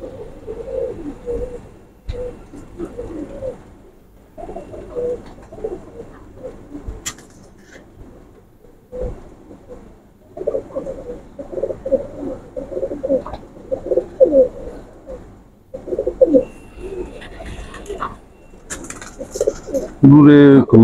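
Royal Teddy pigeons, a pair including a male, coo in repeated low throaty bursts throughout, fairly close, with other birds and brief handling noises around them.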